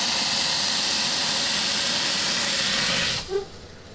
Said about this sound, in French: Dans un four préchauffé à 250 degrés, on commence par cuire 10 minutes en créant de la vapeur